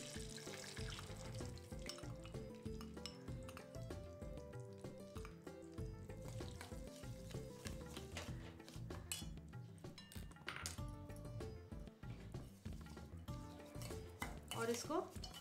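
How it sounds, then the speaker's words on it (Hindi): Broken wheat (dalia) goes into a pan and is stirred on a cooking show, with busy close scraping and clattering of a spoon against the pan throughout. "इसके बाद हम इसमें दलिया डालेंगे।"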